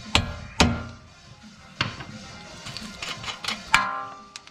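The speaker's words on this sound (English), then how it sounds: "you get your hammer and you want to tap it out." Sharp metallic hammer taps, about six irregular strikes on a bolt during strut removal on a G35, close and ringing, with quiet pauses between blows.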